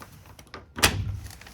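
A sliding closet door in a 2023 Riverstone Legacy 39RBFL RV rolls and bumps shut, giving one close, fairly loud thud with a short rumbling slide, preceded by faint clicks.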